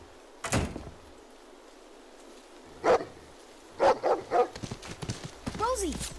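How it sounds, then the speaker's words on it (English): A dog in The Walking Dead: Season Four video game gives a few sharp, separated barks at moderate distance, interspersed with thuds and a door-like knock, while characters talk. "Yeah, Rosie, that's the dog's name"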